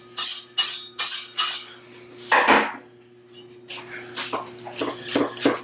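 A sharp knife chopping vegetables for roasting on a cutting board, giving a run of distinct knocking cuts in uneven rhythm, close and clear, with a short pause before quicker lighter strokes resume.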